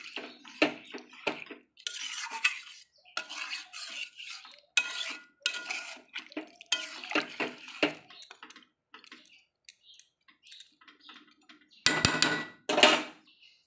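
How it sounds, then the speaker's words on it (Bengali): Water pours into a pan of potato chicken curry after the meat has been fried in oil, between scattered clinks and scrapes of a utensil, ending in a louder rushing splash near the end. "জল দিয়ে দেবো।"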